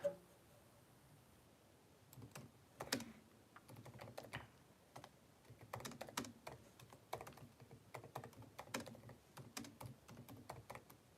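Someone types on a computer keyboard in quick, irregular bursts of clicks. The keystrokes sound quiet and fairly close, with short pauses between runs and no voices.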